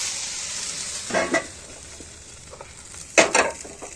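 Food fries in a pan with a soft, steady sizzle, broken by a few brief bursts of stirring and scraping, heard close and alone.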